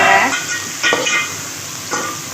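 Onions and vegetables stirred in a frying pan: three loud scraping sweeps of a utensil over a hissing, sizzling background.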